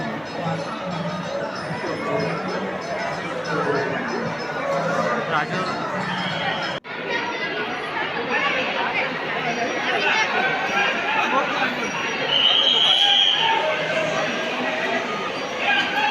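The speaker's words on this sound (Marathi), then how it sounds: "स्वामींच्या दारी खूप गर्दी आहे." Dense crowd at the Swami Samarth temple in Akkalkot, with a continuous babble of many voices surrounding the listener, occasional clinks and shuffles, and no single voice standing out.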